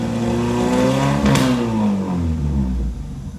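A car engine running on a homemade standalone ECU with a custom trigger disc revs hard at high throttle, a loud, close drone whose pitch climbs, peaks with a brief sharp burst, then falls away.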